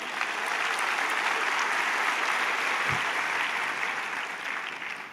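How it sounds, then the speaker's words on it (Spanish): A church congregation applauds during a devotional service, giving a dense, sustained wash of clapping at steady loudness throughout, with one faint low thump partway through. "Dale un aplauso a Jesús."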